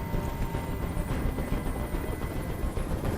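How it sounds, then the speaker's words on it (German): In the video game Detroit: Become Human, a helicopter's rotors beat as a dense, steady chopping roar that fills the scene, loud and unbroken throughout the short stretch with no voices over it. "Ich halte diesen Krach nicht mehr aus. Dieser Helikopter soll verschwinden."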